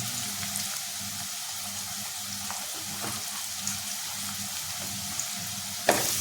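Asafoetida dropped into hot oil for a soybean curry, giving a steady, close frying sizzle with faint stirring and a small clink near the end.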